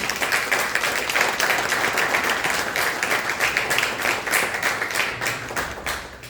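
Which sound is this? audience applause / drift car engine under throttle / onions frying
audience applause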